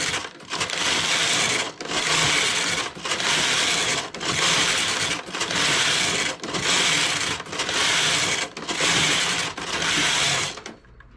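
A domestic knitting machine works rows of striped knitting, its carriage sliding back and forth in about nine loud, even, rasping passes separated by short pauses, close and steady with no talking.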